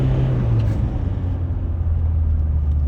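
A GWM Poer 300 diesel pickup's engine rumbles loud and close from inside the cab, its low drone shifting pitch downward as the gear drops.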